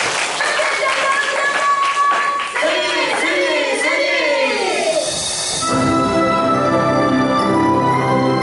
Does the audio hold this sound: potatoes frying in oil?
no